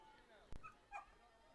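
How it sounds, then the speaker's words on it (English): A dog gives a couple of short barks and yips in the distance at an outdoor Little League baseball championship game, with faint crowd and play-by-play talk underneath. "Dogs barking"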